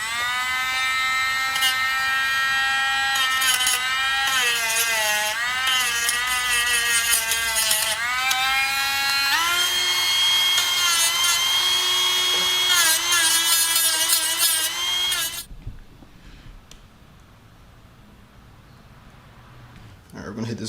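A power tool grinds powder coat on an Indian Scout motorcycle part down to shiny bare metal, a loud whirring whine rising and falling in pitch for about fifteen seconds before it cuts out and quiet follows.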